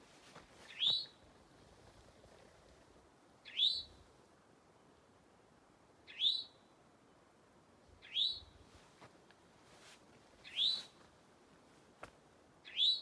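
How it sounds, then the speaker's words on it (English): An eastern towhee sings from a tree along the Appalachian Trail, giving six short, bright whistled phrases spaced a couple of seconds apart, clear and moderately close over a quiet woodland background. "There's a towhee in the tree there."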